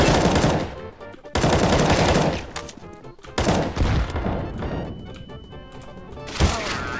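Rapid bursts of gunfire from a CS:GO match, loud and close, in several volleys separated by brief pauses, with a single heavier thump near the end.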